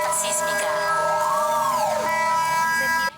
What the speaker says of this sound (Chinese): 警报声一直达，真侪民众走出大楼